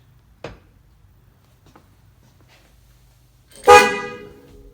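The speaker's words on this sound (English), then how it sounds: "Horn blows, so that's a good thing." Horn of a 1968 Chevy truck sounds once in a short, loud honk late in the clip, preceded by a couple of faint clicks in a quiet garage setting.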